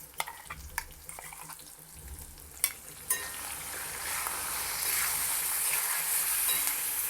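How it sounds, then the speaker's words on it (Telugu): Ground kalinkaya (vakkaya) paste goes into a hot pan and fries, starting with a few scraping knocks and then settling into a steady, close, bright sizzle that grows louder. "ఇప్పుడు ఇందులో మనం గ్రైండ్ చేసుకున్న వాక్కాయ పేస్ట్ వేసుకోవాలి. వేసుకుని కొద్దిగా పచ్చి వాసన పోయే వరకు వేయించాలి."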